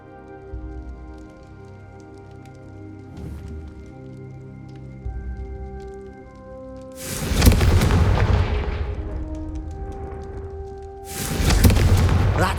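Confringo fire spell blasts in Hogwarts Legacy: two loud booming explosions with a crackling decay over a sustained game music bed.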